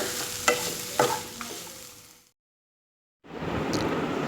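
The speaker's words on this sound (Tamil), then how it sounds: "போட்டு நல்லா கிண்டி விடுங்க" Cooked rice being stirred into mint chutney in a pan, soft scraping strokes with a few clear knocks of the spoon, then a short silence before a low, steady sizzle resumes.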